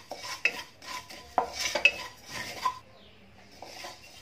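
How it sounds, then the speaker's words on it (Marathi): Ajwain, fennel and cumin seeds dry-roast in a pan, with soft scraping and light metallic clinks of a spoon stirring, coming in quiet irregular bursts. "ओवा भाजून घेते, त्याच्यामध्ये बडीसप आणि हे जिरं, हे तिन्ही मिक्स भाजून घेणार आहे"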